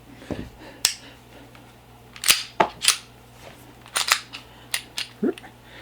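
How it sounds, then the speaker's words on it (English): A Bersa TPR9C compact pistol is handled up close, giving a series of crisp metallic clicks and snaps as the magazine drops free, spaced irregularly over a quiet room hum. "I want to show you that the pistol dropped the magazine"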